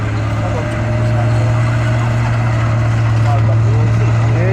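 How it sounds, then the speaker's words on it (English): Tiger 131 tank from the Second World War at Tankfest 2017, its engine droning steadily in a loud, continuous low rumble with a strong tonal hum as it drives around, with faint crowd voices underneath. "we're going to let Tiger 131 drive around so you can listen to that engine note"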